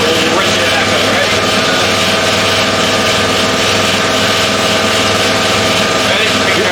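An MBX GY6 buggy engine running on a dyno, a loud steady close drone with constant vibration filling the whole stretch, with voices faintly mixed in.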